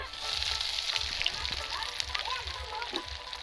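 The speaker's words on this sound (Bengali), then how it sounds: "পেঁয়াজ কুচি নিয়ে নিয়েছি পেঁয়াজ কুচিটা দিয়ে দেবো" Chopped onion sizzles in hot oil for handi chicken, a bright crackling hiss with some sloshing, heard under a voice talking.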